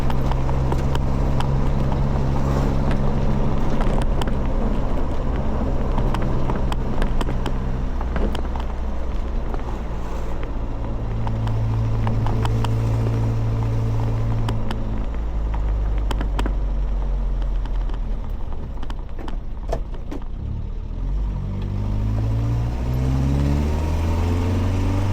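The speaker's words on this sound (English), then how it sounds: "Got to sort the exhaust pipe out, a bit noisy." A 1980 Mitsubishi L200 pickup with a noisy exhaust drives along, its engine droning steadily close by with shifting low tones as it revs and changes pitch throughout.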